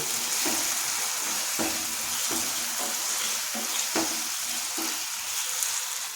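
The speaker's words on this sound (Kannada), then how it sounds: "ಎರಡು ಆ್ಯಡ್ ಮಾಡಿ ನೀಟಾಗಿ ಕಲಿಸ್ಕೊಳ್ಳಿ." Spicy masala vegetable Maggi noodles with soy sauce and red chilli sauce being stirred in a hot pan, steady sizzling with repeated scraping strokes of the spoon, close and continuous.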